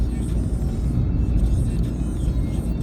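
A car drives along a road near Perpignan during a driving-licence exam route, accelerating toward 50 km/h in third gear. Inside the cabin a steady, fairly loud engine and road rumble continues for a few seconds without talk.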